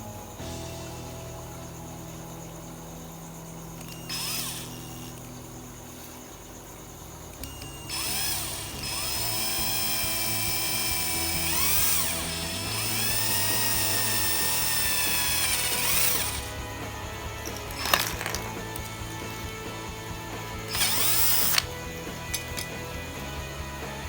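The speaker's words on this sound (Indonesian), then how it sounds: "kita langsung lubangi." A power drill whirs in several bursts of varying length, biting into plastic pipe between pauses, with faint clicks and handling noises in the gaps.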